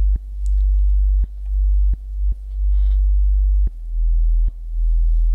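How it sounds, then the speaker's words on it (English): A synthesized pure sine tone plays a deep sub-bass note, repeated in several sustained pulses with small clicks at each onset, loud and steady with nothing else around it. "Might try and lose the FM, see what it sounds like as a nice pure tone"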